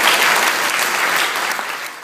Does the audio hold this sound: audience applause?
yes